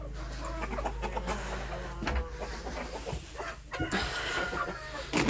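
Several chickens, including a young hen, cluck and call close by on a village farm, with a bit of background shuffling and noise throughout.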